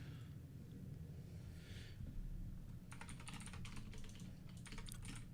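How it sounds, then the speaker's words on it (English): Rapid typing on a 1984 keyboard clatters in dense bursts in a ham radio shack with Icom IC-9700 and IC-7610 transceivers, a bit distant, over steady low equipment hum and hiss. "Your 1984 keyboard going at it."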